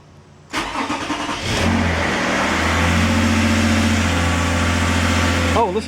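A 2011 Toyota RAV4 engine cranks briefly and catches, then settles into a loud, steady idle with a constant low hum that continues to the end.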